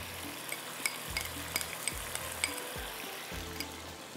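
Cumin and ginger garlic paste frying with spices in a pan sizzle quietly and steadily, broken by several soft stirring scrapes and small pops, with no talking.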